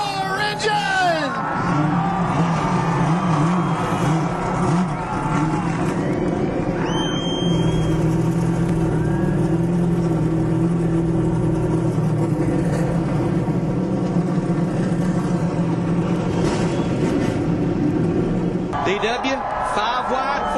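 NASCAR race car engines rumble at the 2007 Aaron's 499 at a big superspeedway, a dense loud roar of many cars mixed with crowd noise and a booming announcer's voice throughout.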